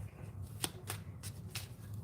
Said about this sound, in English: look at me shuffling just this amount